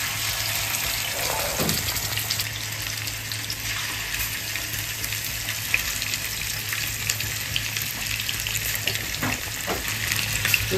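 Hilsa fish, rubbed with turmeric and salt, frying in hot oil with a steady, dense sizzle and crackle throughout, a low continuous hum underneath and occasional faint stirring or water sounds, no one talking.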